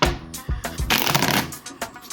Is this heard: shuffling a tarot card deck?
yes